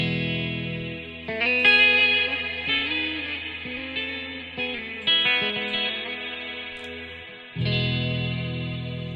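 Electric guitar played direct through an effects chain with chorus, distortion and reverb, ringing sustained chords and notes with a washy echoing tail, close and full, no talking.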